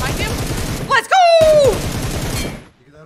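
Rapid automatic gunfire rattles in a video game mecha mode, loud and close, with a brief whistling tone cutting in midway before the shooting fades near the end.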